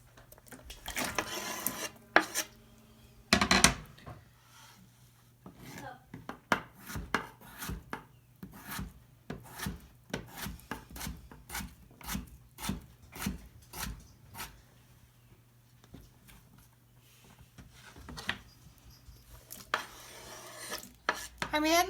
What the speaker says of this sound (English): We're starting to chop up our vegetables. First thing is a nice large rutabaga.